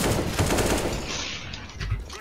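Gunfire in Counter-Strike: GO, a burst of rapid automatic shots at close range, dense and loud at first, then thinning into a couple of scattered reports.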